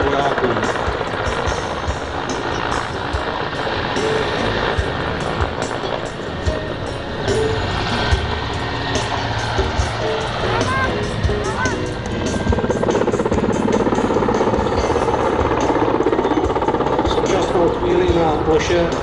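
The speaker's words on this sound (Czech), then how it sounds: "vrtulník, který lítá v pozadí, nám provádí zajištění tady této plochy" A military helicopter circles in the background at a NATO Day military demonstration with a medevac exercise, its loud, steady rotor and engine drone filling the whole stretch without letting up.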